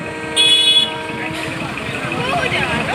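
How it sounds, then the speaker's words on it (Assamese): Vehicle horns honk amid busy traffic noise in a traffic jam near ITI in Silchar, Assam, one sharp blast standing out briefly over a steady rumble of engines. "আৰু আহিছে পূৰা হৰ্ণ দিছে।"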